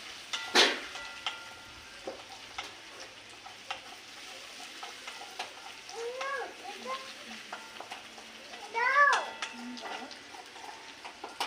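Mourola fish and raw tomato fry in a pan with a low, steady sizzle, joined by a few sharp clanks and scrapes of stirring and faint bird chirps in the background.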